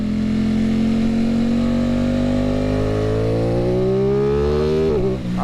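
An Aprilia RS660 motorcycle fitted with an eBay aftermarket exhaust, its engine note climbing steadily through the mid-range as the throttle rolls on, loud and close, then dipping briefly near the end.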